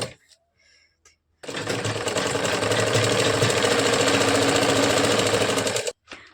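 A sewing machine runs steadily for several seconds, stitching a line of seams on a katori blouse, loud and close, starting after a short quiet pause and stopping abruptly near the end, with no talking.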